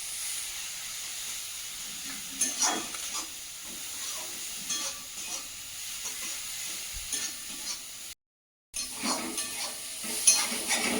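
Thick spice paste with a little water sizzles and spits in a hot pan, with intermittent scraping of a spatula stirring through it.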